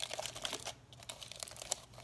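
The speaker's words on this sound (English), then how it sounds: "the next piece is taking the tin foil off of the jar" Tin foil crinkles and crumples softly as it is pulled off a jar during a rope basket craft. The rustling is quiet, close and choppy, with short irregular crackles.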